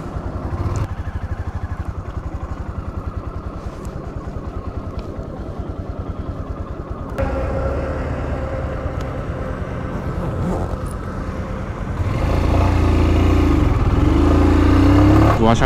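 Motorcycle riding along a foggy highway between Kolkata and Siliguri in North Bengal, a steady close engine and wind drone throughout that swells louder and rougher near the end as the bike speeds up.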